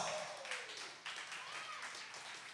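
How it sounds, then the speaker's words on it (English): Applause from a small live-show audience in a bar, a dense, fairly quiet patter of clapping that stays steady throughout with no clear speech over it. "Give yourselves a round of applause."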